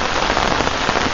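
Heavy rain pours down at a lake on a dark day out carp fishing, a dense, steady hiss of drops close by with no voices.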